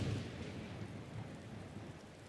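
Steady rain with a low rumble of thunder in Skyrim, a dense, even wash of sound that stays faint and unbroken throughout.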